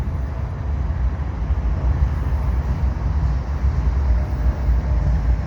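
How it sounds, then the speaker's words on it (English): A CN freight train rolls up out of the Dorval ramps in Montreal, giving a loud, steady low rumble and roar that holds for several seconds with no break. "I got a CN train emerging here from the Dorval Ramps."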